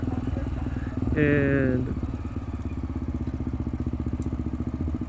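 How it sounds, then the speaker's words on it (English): A 2002 Honda CBF 250 Twister motorcycle with a carbureted single engine idles close by, putting out a steady, rapid thumping pulse that runs throughout, while someone speaks briefly over it near the start. "So this is a 2002 carbureted CBF 250 Twister from Honda"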